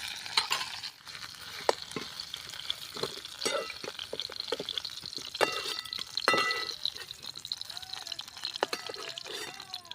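Okra sautéing in a pan, a soft steady sizzle broken by repeated scraping and stirring clinks of a spatula, close and moderately loud with no talking.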